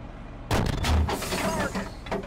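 A tank fires its main gun with a sudden heavy boom, followed by rumbling reverberation and a sustained roar of battle noise.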